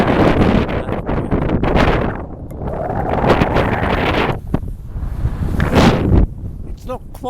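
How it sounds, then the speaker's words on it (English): Gusty wind sweeps across the summit of Cribyn in the Brecon Beacons in late November, a loud, rough roar and buffeting that rises and falls, with a voice talking through it. "It's not quite so windy up here as it was actually on the edge there."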